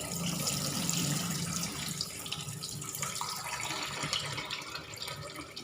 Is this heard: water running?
yes